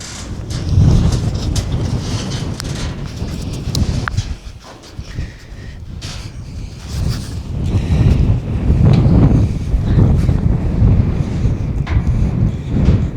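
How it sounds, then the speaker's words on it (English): Gusty wind buffets the microphone at an old mine site, a steady low rumble swelling and easing in loud waves for the whole stretch. "It's a bit windy and blowy, so excuse the"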